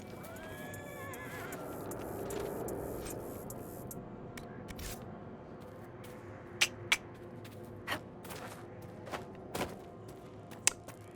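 A horse in Dragon Age: Inquisition gives a descending whinny, followed by scattered sharp clicks and taps against a low ambient background.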